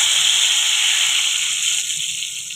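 A loud, close hiss of hot oil tempering poured onto moong and masoor lentils, a sharp sizzling burst that slowly fades over a couple of seconds.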